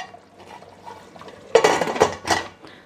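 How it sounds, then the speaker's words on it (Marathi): A metal pressure cooker lid is fitted onto the pot while chicken curry cooks: quiet kitchen background, then a sharp clatter followed by two more metallic clanks close by. "एकदा मी पुन्हा व्यवस्थित मिक्स करून घेते आणि कुकरचं झाकण लावून घेते।"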